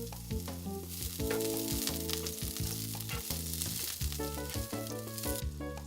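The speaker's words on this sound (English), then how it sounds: "Melt the beef tallow in a frying pan over a bit strong medium flame." Long green onion sears in melted beef tallow in a frying pan over a fairly strong medium flame, a steady close sizzle and crackle throughout with light stirring.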